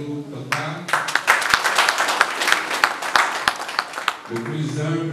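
Audience applause at a book launch in Cotonou, Benin, honoring a radio journalist, a lively stretch of many hands clapping with sharp individual claps, framed by a voice speaking through a microphone before and after.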